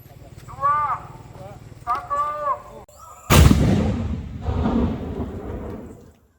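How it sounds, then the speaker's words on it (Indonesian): A police bomb squad sets off an active pineapple-type hand grenade in a controlled detonation in Bantimurung, Maros, South Sulawesi. A single loud, close blast booms out and then rumbles away slowly, after a voice talks briefly beforehand. "Tim penjinak bom dan gegana Polda Sulawesi Selatan memusnahkan granat genggam jenis nanas yang masih aktif."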